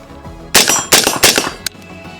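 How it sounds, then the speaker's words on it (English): VKTR Industries VK-1 rifle fired in a few sharp, loud reports spaced close together, three main shots followed by a smaller fourth crack, with no talking. "Me shooting it,"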